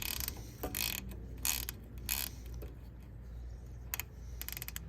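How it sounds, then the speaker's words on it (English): A 3/8 ratchet works loose the oil drain cap at the bottom of the engine block on a GatorTail GTR XD, giving bursts of quiet mechanical clicking in several short runs over a low steady background hum. "Your 3/8 ratchet should fit in there just perfectly. And you loosen the cap."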